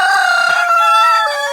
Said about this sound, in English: this is what it looks like when roosters fight